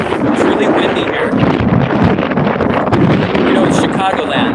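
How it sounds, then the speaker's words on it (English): Strong wind buffets an outdoor microphone in the Chicago area, a loud, continuous roaring rumble with gusty swells that runs through the whole stretch and masks any other sound. "It's really windy here."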